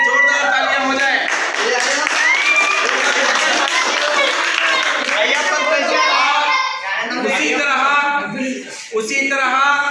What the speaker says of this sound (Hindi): इस झुंड के लिए जोरदार तालियां हो जाए